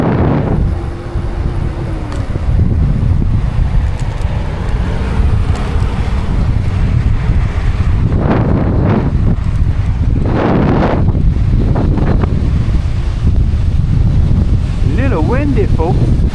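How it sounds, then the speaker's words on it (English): Strong gusty wind buffets the microphone outdoors by a lake, a loud roaring rush that swells in bursts, with a voice speaking briefly underneath. "Little windy, folks. Wow, that's windy."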